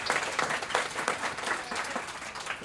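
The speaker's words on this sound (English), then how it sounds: "let's give a big round of applause for all 5 teams" Audience applause for five competing teams at a civic challenge event in Berkeley, a dense, steady wash of many hands clapping that holds for the whole stretch without pause.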